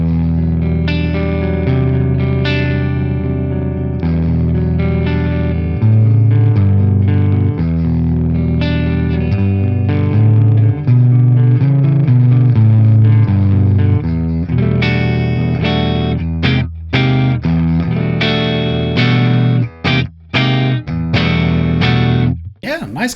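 Electric guitar playing clean tones through a Mesa Dual Rectifier Rev F amp capture using the 6L6 setting, a steady run of chords and notes with sustained ringing, loud and close, alone with no talk.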